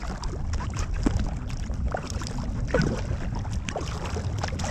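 An Intex Challenger K1 inflatable kayak moves across a lake in Colorado, with a continuous low rush of water and wind and light splashes from the paddle.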